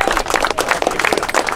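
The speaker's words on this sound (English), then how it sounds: "How about a round of applause for Dan?" An audience at a WWII military encampment small arms demonstration gives a loud round of applause, dense close-up clapping from many hands that holds steady throughout the short burst.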